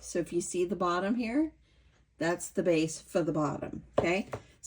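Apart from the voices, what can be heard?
No distinct noise like a dog, phone or traffic.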